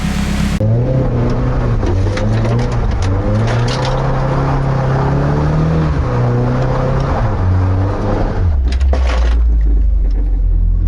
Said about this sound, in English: I kind of want to pull it outside and do like a donut in it